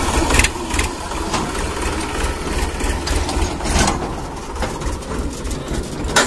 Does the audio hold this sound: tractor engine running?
yes